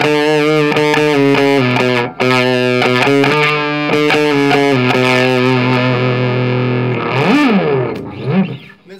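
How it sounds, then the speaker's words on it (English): Electric guitar played through a handmade germanium boost pedal gives a thick, distorted tone: sustained chords and notes ring out loud, with a brief dip near the start and bending, wavering notes toward the end. "we have this weird, unique distortion sound"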